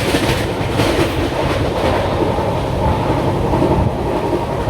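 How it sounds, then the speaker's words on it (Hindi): A Rajdhani Express train runs at about 120 km/h, heard from on board as a loud, continuous roar with rumbling wheel noise and faint clickety-clack over the rails. No voices are heard. "राजधानी एक्सप्रेस है भैया, ये बकती है करीबन 120 किलोमीटर रफ्तार पे।"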